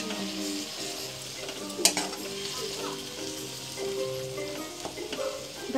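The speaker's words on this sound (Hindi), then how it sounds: "हम इसको तेल में डाल दिया है।" Meat marinated with garlic, ginger and green chili paste fries in oil, a steady close sizzle with occasional stirring clinks and a sharp spatter near the two-second mark, under faint background music.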